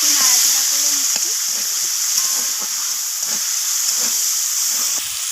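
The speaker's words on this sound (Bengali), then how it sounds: "তো টমেটোটাকে একটু নাড়াচাড়া করে নিচ্ছি" Chopped tomatoes frying in a pan with tempered spices, a steady sizzling hiss with scattered scraping and stirring clicks throughout, close and continuous without talk.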